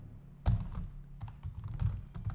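Typing on a computer keyboard, a few scattered close keystrokes and clacks at an uneven pace, quiet and alone.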